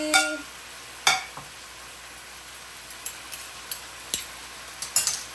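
Chillies going into a pan for Bicol Express, with a soft low sizzle beneath a series of sharp clinks and taps from utensils against the pan, spaced irregularly and fairly close.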